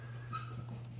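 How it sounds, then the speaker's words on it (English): A beagle puppy whines with a thin, faint, high whimper under a steady low electrical hum, brief and fairly close. "she's like whining and crying"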